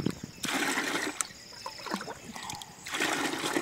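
Water is poured slowly from a bucket in bursts, close splashing and trickling in several separate pours with short pauses between.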